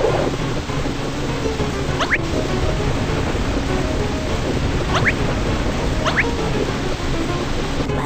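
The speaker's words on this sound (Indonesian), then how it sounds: "Hati-hati, badai semakin kuat." A cartoon sea storm pours heavy, constant rain with a loud roaring wash, broken by a few brief sharp thunder cracks, and no voices.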